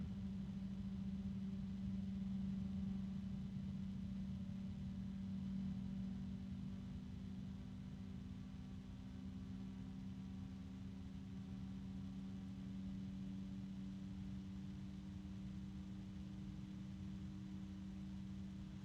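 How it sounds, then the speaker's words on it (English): A Noctua computer cooling fan whirs at full speed, a steady hum with a faint high tone that slowly drifts upward in pitch. No one speaks. "I can already hear the high pitch of the Noctua starting to cut in."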